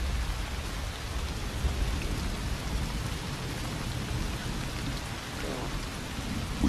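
Steady rain pours down outdoors in the Western game The Desperados, a dense even hiss of drops with a low rumble underneath, continuous throughout and without speech.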